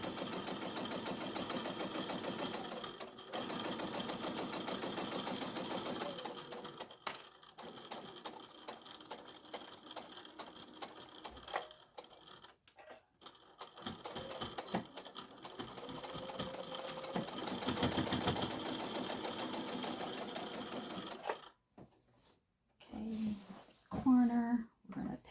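A sewing machine stitching the bib piece of an apron runs in repeated bursts of rapid mechanical clatter. The runs are broken by short pauses where the stitching reverses and pivots, and a voice is heard at times.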